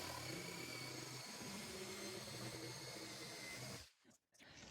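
A SKIL jigsaw fitted with a hardwood fast-cutting blade saws through a butcher block wood counter, a steady buzzing whine that cuts off near the end, leaving brief quiet.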